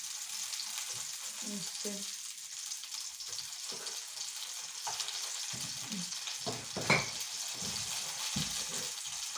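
Food sizzles steadily in a home frying pan with only a little oil, a close, continuous crackle broken by scraping and stirring sounds, while someone briefly speaks.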